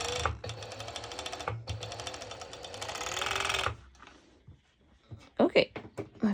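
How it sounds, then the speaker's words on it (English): An overlocker serges the side seams of stretch pole-dance shorts, running in a loud steady burst for several seconds, pausing briefly, then stopping, followed by quieter fabric handling and a few sharp clicks. "I am going to serge the sides, what it will be from the shorts."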